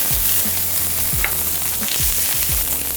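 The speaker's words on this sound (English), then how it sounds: "I'm gonna add my corn to the pan." Corn kernels sizzling in an oiled pan, a loud, dense hiss of hot oil running throughout, close up, with a few low thumps from the pan underneath.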